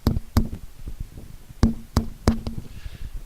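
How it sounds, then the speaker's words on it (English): Knocking at a window at night, heard as a few sharp, separated knocks in irregular clusters against a quiet background. "then she heard that same knocking at her window."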